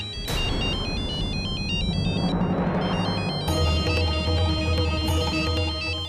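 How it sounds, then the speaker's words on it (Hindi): A phone ringtone plays loudly and continuously, a repeating electronic melody that briefly drops out midway before resuming. "फोन तो इधर ही बज रहा है।"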